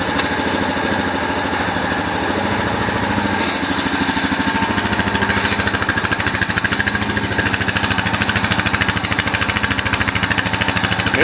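A Jeep Rubicon engine runs steadily with a newly replaced exhaust, giving a loud, continuous, close rumbling drone with a fast regular pulse and no speech over it.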